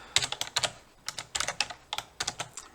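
Rapid typing on a computer keyboard during a math lesson, clusters of crisp key clicks in quick bursts with short pauses between, close and clear with no talking.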